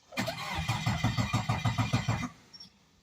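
A Geo Metro's engine cranks over with a rhythmic, labored starter churn for about two seconds, then stops without catching, with no fuel pump heard; loud and close.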